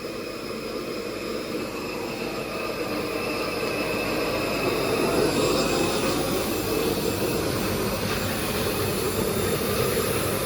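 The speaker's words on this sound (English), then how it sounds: "So the air from that blower is going straight into the bead now and the bead is cleaning." An air blower drives air into a K1 micro bead pond filter, a loud steady rushing roar with bubbling churn that swells slightly midway and holds, no voices.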